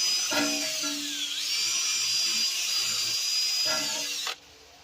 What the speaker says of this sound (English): We're gonna start drilling that hole again so that we can get the hole opened up